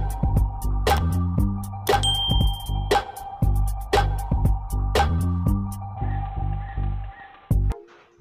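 Notification bell dings ring out repeatedly, bright and loud at a roughly steady pace of about one strike per second, each with a ringing tail and overlapping tones, heard alone.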